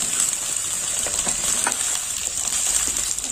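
Carrots, capsicum and beans frying together in a pan with panch phoron, a steady close hiss and sizzle with faint stirring clicks, no voices.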